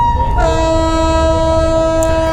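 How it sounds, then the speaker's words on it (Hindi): A train passing the Haridwar railway crossing, a loud, steady multi-tone horn blaring up close over the rumble of the rail cars, with no voices. "यहाँ से एक ट्रेन बहुत ही धीरे धीरे आती हुई"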